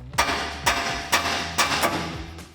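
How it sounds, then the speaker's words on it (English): Hammer striking a steering knuckle to pop the ball joint free on a 2014-2020 Ford F-150 during a suspension lift install, five sharp metallic blows at an even, quick rhythm, close and loud. "we can take a hammer and hit the knuckle to pop our ball joint free"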